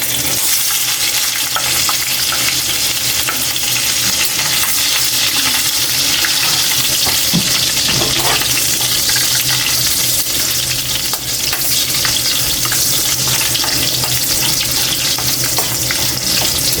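Garlic dropped into hot oil in a pan for Bicol Express, giving a steady loud sizzle and crackle that fills the whole stretch without letup, with occasional light clinks of stirring.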